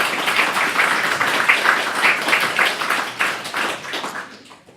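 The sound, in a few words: audience clapping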